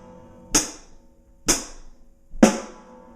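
Three evenly spaced hits of a beginner funk drum groove on hi-hat, snare and bass drum, each a crisp close strike with a bright ringing decay, played alone at a steady slow pace.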